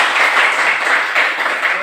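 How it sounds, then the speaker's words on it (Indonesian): Short round of classroom clapping for a student during a teaching practice lesson, a steady patter of hands from a small group over a couple of seconds. "tepuk tangan untuk Niskar"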